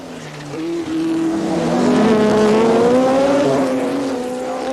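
Rallycross race cars from the 1986 European Championship roaring past close by, a loud continuous engine howl with rising and falling pitch as the cars accelerate and slide.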